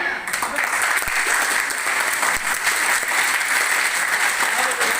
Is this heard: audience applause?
yes